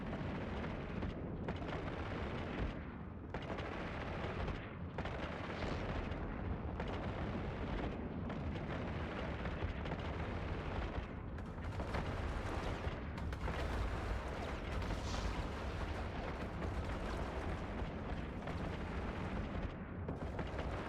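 Spaceship weapons pound steadily in EVE Online, with missile and turret fire rumbling in a dense, nonstop barrage of booms and bursts that stays loud throughout.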